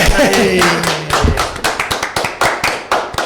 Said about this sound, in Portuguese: Aplausos. Aplausos aqui.